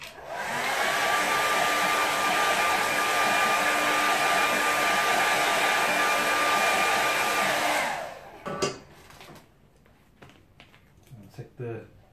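A hair dryer blows a loud, steady whir for about eight seconds while drying a watercolour painting, then cuts off, followed by faint handling clicks and rustles.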